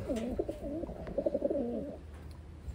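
A hen pigeon coos in a soft, rolling series of low notes for about two seconds, close by, then quiet background.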